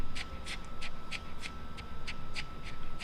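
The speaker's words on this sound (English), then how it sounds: "And you'll hear her breathing. She's panting a little bit because that's stress." A senior Pomeranian dog pants quickly and rhythmically from stress, about ten short breathy puffs in a steady beat, close and fairly soft.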